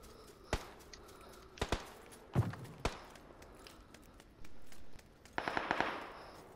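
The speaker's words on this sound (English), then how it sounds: "The other guys are shooting in front of me." Gunfire in a first-person shooter video game, sharp isolated shots at irregular intervals, then a quick rattling burst near the end, fairly close and crisp against quiet background.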